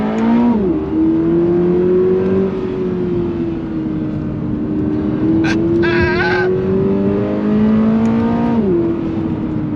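A 2022 Subaru BRZ sports car engine pulls hard under throttle, a loud steady rising drone with a gear change near the end, heard from inside the cabin with a brief voice in the middle.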